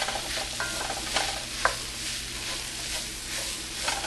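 Leftover cooked rice is stirred and heated in a pan, with soft scraping strokes, a few light clinks of the spoon and a steady low sizzle underneath, close by and with no talk.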